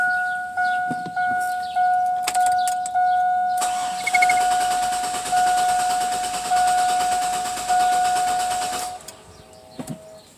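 A car engine with a suspected misfire cranks and starts, then runs steadily with a rough, throbbing idle and a faint high whine, before shutting off near the end.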